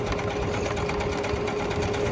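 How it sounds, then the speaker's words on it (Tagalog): A Jaguar CD-2205MP sewing machine runs steadily at close range, a continuous mechanical whir with a fine rapid needle rhythm and no pauses or voices. "Sobrang ganda po ito pong sewing machine po natin na Jaguar."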